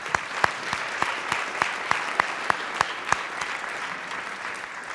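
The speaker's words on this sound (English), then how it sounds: "round of applause to all the 4 debaters" Audience at a university debate between College Republicans and College Democrats applauds the four debaters, a moderate crowd whose clapping has several sharp, distinct claps standing out near the start before thinning into softer, steadier applause.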